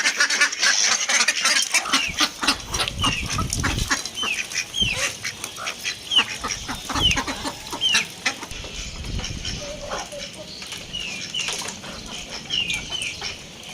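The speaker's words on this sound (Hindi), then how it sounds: "घर का बचा हुआ खाना अपनी मुर्गी और बतखों को डाल देते हैं" Chickens and ducks cluck and quack close by, with flapping wings and scattered bird calls throughout, no talking.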